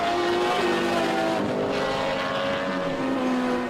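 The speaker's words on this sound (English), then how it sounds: "You know you're in presence of a V12 with that noise, don't you?" A V12 race car engine on the track at Sandown International Raceway during a Victorian State Race Series round. It is a loud, sustained howl with shifting pitch as the revs rise and fall, with no talk.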